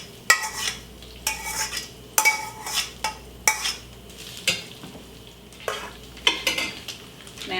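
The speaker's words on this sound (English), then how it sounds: "I'm going to go ahead and dump it back into my skillet now that it's all drained" Drained ground meat is tipped back into a hot skillet, where it sizzles while a utensil scrapes and stirs in repeated sharp strokes against the pan, close up and with no talking.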